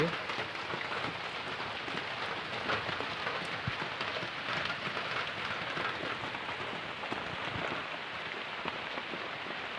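Rain falls in a village with a dense, steady patter on surfaces nearby, a constant wash of drops with no pauses.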